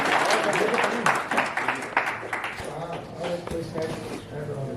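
Applause from the audience at a Hindi poetry gathering of disabled poets in Haridwar, moderately loud and scattered, mixed with voices talking and calling out over it.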